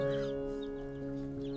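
A silkie chicken gives soft, low clucks near a steady electrical hum, faint and brief, with no talking.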